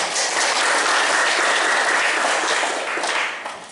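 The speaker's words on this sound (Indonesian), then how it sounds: "semuanya tepuk tangan" Audience applause at a community organisation empowerment forum in Indonesia, a loud, sustained wash of many people clapping that holds steady and then tapers off slightly near the end, with no voices over it.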